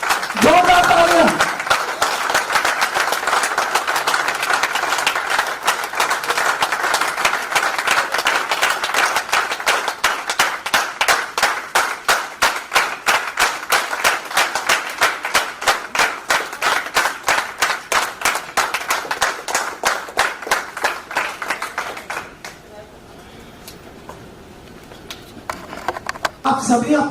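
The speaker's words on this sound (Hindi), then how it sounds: "दोस्तों जोरदार तालियां उपस्थित रहनी चाहिए, जोरदार तालियां।" Audience at a corporate event applauding to welcome the company's CMD, with sustained, even rhythmic clapping for over twenty seconds before it fades, then resumes briefly at the end.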